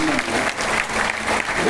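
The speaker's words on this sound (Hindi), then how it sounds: "जरा एक बार जोरदार तालियों से स्वागत" Audience applause at a BJP birth-anniversary event for Devi Ahilyabai Holkar in Ghaziabad, steady dense clapping from a crowd filling the whole stretch without pause.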